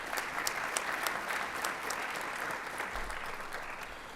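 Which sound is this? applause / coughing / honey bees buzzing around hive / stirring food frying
applause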